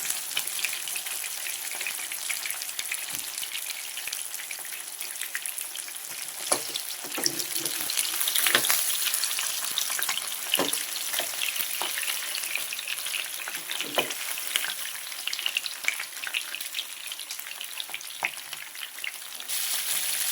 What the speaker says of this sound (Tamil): மீன் இப்படியே ஒரு 3 நிமிஷம் வேகட்டுங்க.